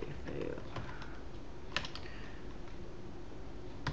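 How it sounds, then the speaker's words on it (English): Computer keyboard typing while entering a search for Xbox 360 gamer pictures: quick, light key clicks in a loose run, fairly close, with a voice speaking over parts of it. "Type in the game picture one you want."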